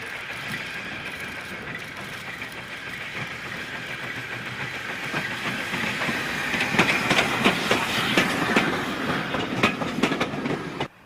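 Steam tank engine hauling an LMS-design inspection saloon away from Loughborough, a steady rolling rumble with a building clickety-clack of wheels over rail joints, growing louder and more rhythmic toward the end, no voices.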